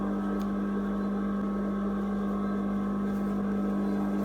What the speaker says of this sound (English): So you'll be stitching onto the lining and catching the under seam, the seam allowance.